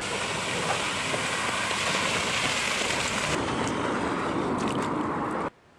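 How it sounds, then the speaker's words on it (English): Monsoon rain pours down in Arizona, a dense, steady hiss of heavy rainfall close by that holds constant and then cuts off abruptly at the end, with no voices. "And that are the monsoon rains."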